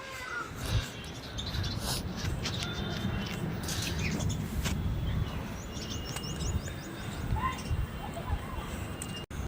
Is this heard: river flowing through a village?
no